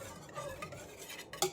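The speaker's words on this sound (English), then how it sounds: "make sure I get all those eggs and applesauce all mixed well" A utensil whisks eggs and applesauce batter in a bowl with quiet rhythmic scraping and light clinks, ending in a sharper knock against the bowl, and no one talks.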